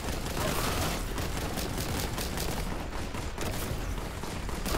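Sustained gunfire in the Warhammer 40,000 Boltgun video game, a loud, dense, continuous barrage of rapid shots and blasts with no pauses and no talk.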